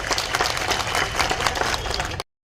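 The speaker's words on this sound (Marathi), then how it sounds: "आपण टाळ्या वाजून या सर्वांचं स्वागत करावं" An audience claps steadily at the inauguration of an election campaign office, a dense, even patter of many hands lasting about two seconds before cutting off abruptly.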